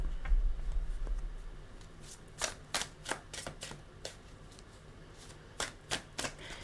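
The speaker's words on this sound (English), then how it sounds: "let's get the rest of our cards out" Tarot cards handled and laid out on a table, giving a series of crisp, dry slaps and flicks in small bursts, close and fairly soft, with a brief low thump at the start and no one talking.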